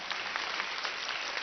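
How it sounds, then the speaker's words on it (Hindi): Schoolchildren clap together for their own school, a dense, steady wash of applause from a large group that holds evenly throughout. "अपने स्कूल के लिए भी ताली बजाइए।"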